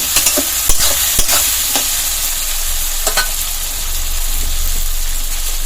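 Garlic, ginger and green chili sizzle loudly in a pan while being stirred, with sharp scraping and knocking strokes early on over a constant frying hiss.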